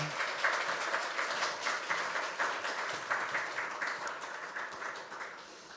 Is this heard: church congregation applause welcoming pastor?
yes